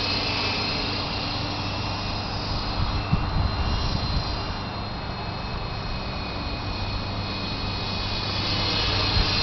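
Brushless-motor WL Toys V913 RC helicopter at full throttle, a steady, loud whine and whirring rotor drone holding nearly constant throughout, with slight surges and no voices.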